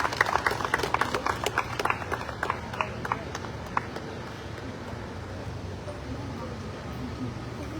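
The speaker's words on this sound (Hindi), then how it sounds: "जोरदार तालियां" An audience claps at a school tree-planting event, a burst of crisp claps that thins out and fades into a lower crowd murmur, heard at moderate distance.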